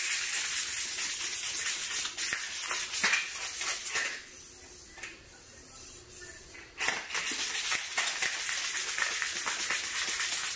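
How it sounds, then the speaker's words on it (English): Sandpaper is rubbed back and forth over scratched car paint in close, steady abrasive strokes, pausing briefly midway before the sanding resumes. "So we're gonna actually try to sand all this."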